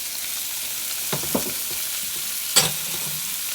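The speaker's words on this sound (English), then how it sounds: "So let's add the onions and the peppers." Onions and peppers hit a pan of breakfast potato hash with a steady, close sizzle, and a few sharp spatula clanks and stirring scrapes sound over it.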